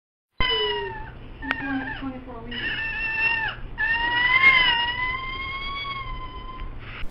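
A newborn baby with cri du chat syndrome, whose narrowed larynx gives the cry a kitten-like sound, gives several high, thin, mewing wails in a row, close and clear with no talk over them.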